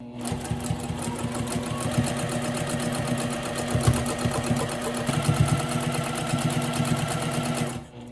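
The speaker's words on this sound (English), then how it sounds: "go slow to make sure you get the stitching right" A sewing machine stitches a hoodie in a steady, even run of rapid needle strokes, close and loud, stopping at the end.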